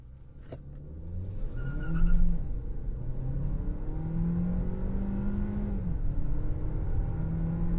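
A Hyundai Tucson accelerating hard from a standstill in automatic mode, its engine rising in pitch through several gears with brief dips at each shift, a steady close drone heard from inside the cabin.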